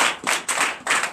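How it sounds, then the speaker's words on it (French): A church congregation at a Sunday worship service in Comè, Benin, claps in loud, close bursts, with the hands striking in quick rhythmic waves that swell and dip several times in a short moment. "Je vous demande de les applaudir très fort."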